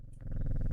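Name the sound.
cat purring when petted, from video game Strange Horticulture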